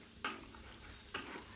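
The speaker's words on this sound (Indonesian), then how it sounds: "ini kita akan tumis sampai menyusut" Spice paste being stirred and sautéed in a pan, blended with water and cooking down, with two sharp scrapes of a utensil against the pan over a low steady sizzle.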